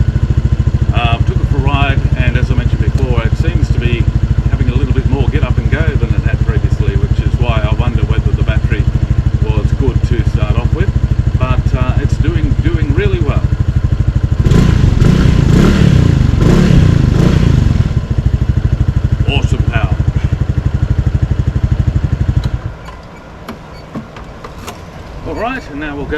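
Harley motorcycle engine with a new battery fitted runs at a steady, loud idle with mechanical clatter and a rev swell midway, then drops off near the end; someone talks over it.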